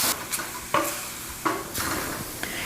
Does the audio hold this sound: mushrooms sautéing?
yes